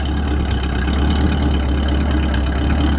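A 1966 Ford Fairlane 500XL convertible engine runs steadily at close range, a continuous low rumble with a slight growl from its aging muffler, no talking over it.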